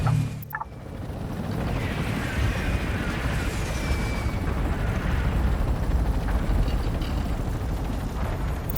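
Continuous rumbling battlefield din in Tom Clancy's EndWar, artillery fire booming and roaring steadily throughout at a loud level, with a sharp burst near the start and no talk.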